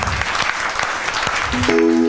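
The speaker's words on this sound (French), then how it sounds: "Applaudis pour le Seigneur." A church congregation claps steadily during a French and Lingala worship service, dense continuous applause filling the room, with a sustained tone rising near the end.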